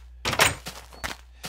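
A wooden door in Minecraft clunks open with a short, close thunk, followed by a few softer knocks and thuds.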